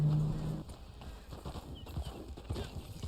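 Horse hooves clip-clopping at a steady walking rhythm in the Red Dead Online video game, fairly close and continuous, with a brief tonal blip near the start.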